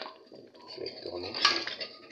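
Utensil scraping and clinking against a metal pot while beef tomato sauce is stirred after oil is poured in, a few close clatters over a soft cooking background.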